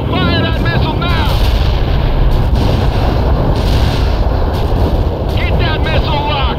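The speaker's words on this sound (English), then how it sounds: "Fire that missile! Fire that missile now!" Missile launch amid battle in the war strategy game World in Conflict: loud sustained roaring rush of firing and gunfire over a continuous combat din, with radio-style voices talking over it.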